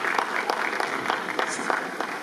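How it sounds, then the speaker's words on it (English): A conference plenary audience claps in a brisk, dense round of applause, steady and fairly near, with some voices mixed in. "Round of applause for Dr."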